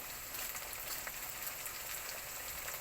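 Ginger, garlic and dried chilli sizzle and fry in hot oil in a pan while ghugni is being made, a steady crackling hiss throughout.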